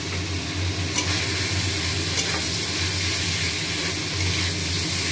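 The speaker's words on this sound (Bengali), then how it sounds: "এবার আলু আর ফুলকপি আমি ভেজে রেখেছিলাম, এবার মশলার সঙ্গে কষবো।" Fried potatoes and cauliflower being stirred into spice paste in oil, a thick continuous sizzle and hiss with a low steady hum beneath and occasional faint scrapes, close and unbroken, with no one talking.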